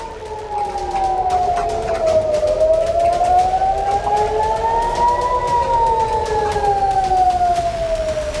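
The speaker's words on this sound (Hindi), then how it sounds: "जहां आसमान में मिसाइल दिखते ही सायरन बजने लगा।" An air raid siren wails steadily in Jerusalem during a missile attack, its pitch slowly rising and falling over a continuous loud drone, with no voices.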